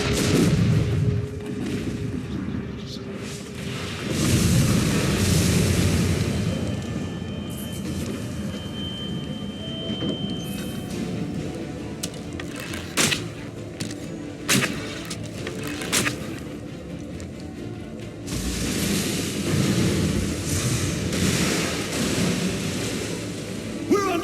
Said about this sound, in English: We're under attack! Captain's dead! Cut down by cannon shot!